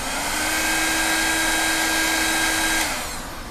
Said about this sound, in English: now I'm going to heat shrink that in place